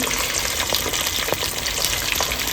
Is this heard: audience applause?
no